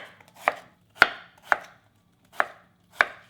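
A knife cuts through a pear on a board for water kimchi, five crisp chopping thuds spaced about half a second apart, close and clear with no talking.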